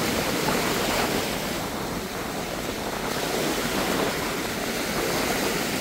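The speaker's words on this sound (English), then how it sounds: "You can hear the wind also." Steady wind buffets the microphone at a sandy beach in Keramoti, northern Greece, with surf washing continuously underneath, a dense, constant rushing roar with no pauses and no voices.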